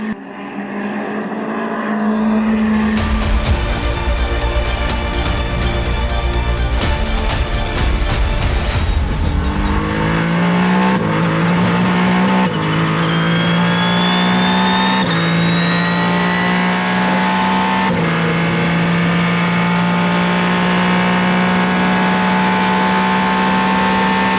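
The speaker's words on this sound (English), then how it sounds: "This is the other Ferrari that also is on slicks." Ferrari factory race cars running on slick tyres at the 2024 Le Mans 24 Hours, a loud sustained engine roar with a burst of broadband noise early on, then steady rising engine tones as cars pass close by.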